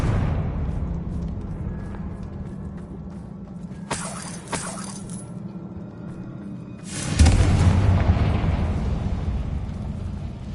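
A Confringo fire spell goes off in a Hogwarts game, a burst of crackling blast around four seconds and a heavier rumbling explosion near seven seconds over a steady low ambient drone, no talking.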